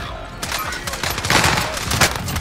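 Rapid bursts of AUG rifle fire in Call of Duty Warzone on Rebirth Island, loud and close, crackling shots stacked into a continuous fusillade over roughly two seconds.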